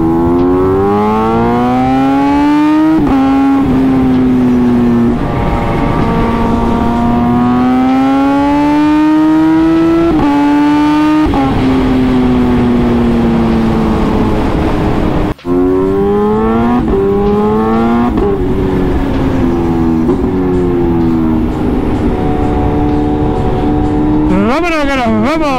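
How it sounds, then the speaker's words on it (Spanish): A Kawasaki ZH2 motorcycle accelerates on the road, its engine note climbing through several gear changes with rising and falling pitch, loud and close throughout, with a rider's voice occasionally over it. "Vamos a acelerar aquí un poquito."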